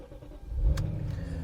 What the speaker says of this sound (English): Definitely start the car up